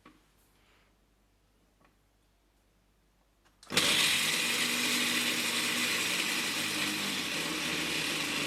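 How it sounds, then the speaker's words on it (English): A blender grinds peanuts into a fine powder, switching on abruptly after quiet with faint ticks beforehand, then roaring loud and steady for several seconds. "Here is an example how I grind peanuts into a fine powder or even make peanut butter."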